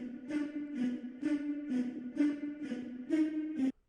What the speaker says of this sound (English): I added this Squid Game thing, which sounds like this.